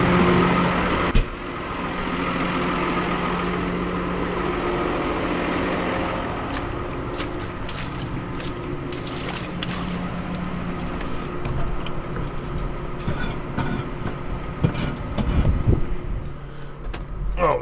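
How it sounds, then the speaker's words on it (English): A Ford/New Holland diesel tractor engine idles with a steady low rumble, punctuated by clanks and rattles, loud and close with no talking. "yeah, nice tractor"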